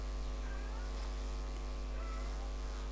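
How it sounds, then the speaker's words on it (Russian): A female cat in heat calls with faint, drawn-out meows over a strong steady mains hum indoors, the cries low in level and partly masked. "извиняюсь за звуки, у меня кошка немножко гуляет, кота просит"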